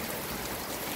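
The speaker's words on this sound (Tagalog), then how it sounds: "Napakalakas po ng ulan, no?" Heavy typhoon rain pours steadily on a terrace during Super Typhoon Uwan in the Philippines, a dense, unbroken hiss of water filling the whole moment without any voices.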